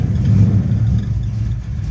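A 1968 Buick GS 400 V8 idles at about 800 rpm while warming up, a steady, loud, low rumble close by with no voices.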